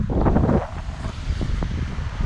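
Wind-driven waves on the Kaniv reservoir wash and churn against the shore, a loud, steady surging rush with gusty wind buffeting the microphone.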